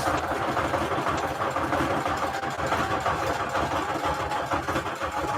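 A sewing machine stitches paper strips onto a tag, running as a steady, rapid mechanical whir at a close distance for several seconds with no pause.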